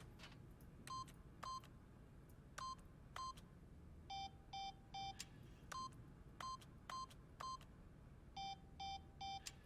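Keypad buttons in The Stanley Parable beep again and again as the number 3 is pressed, giving crisp electronic tones in quick pairs and triplets with short gaps, clean and steady over faint background hum.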